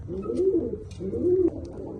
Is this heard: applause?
no